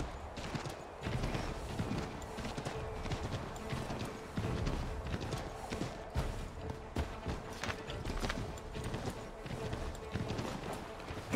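Horse hooves clip-clopping steadily through snow in the video game Assassin's Creed 3, a dense continuous gallop rhythm with game sounds behind, while someone talks over it.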